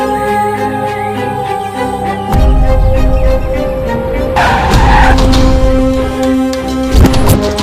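A car skids to a sudden stop with a loud, harsh tire screech and engine noise, followed by rumbling and a sharp clatter near the end, set against tense movie background music.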